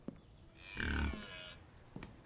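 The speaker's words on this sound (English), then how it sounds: "Oh, hello, pig." A pig in the survival video game The Infected gives a single low, drawn-out grunt, fairly close and alone, with a few faint thumps on either side.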